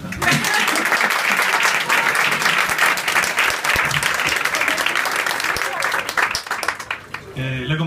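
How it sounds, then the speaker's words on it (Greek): An audience at the presentation of a debut poetry collection breaks into loud, sustained applause that fades out near the end, with a voice starting to speak. "Ένα χειροκρότημα μετά."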